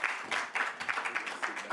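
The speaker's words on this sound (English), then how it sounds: "Please, a round of applause." Moderately faint audience clapping greets a professor at a youth conference on nature-based solutions, rising and dipping in short uneven bursts.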